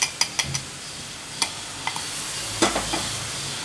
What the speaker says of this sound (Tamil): வெள்ளைப்பாகு ஊற்றி நம்ம இது மாதிரி நல்லா கிண்டணும்